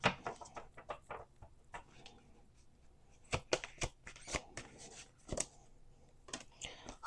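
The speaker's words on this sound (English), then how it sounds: "We're going to do 2 more shuffles." Oracle cards from an archangel animal deck are shuffled by hand in irregular bursts of crisp riffling and slaps, close and fairly quiet, with a voice speaking faintly in the background.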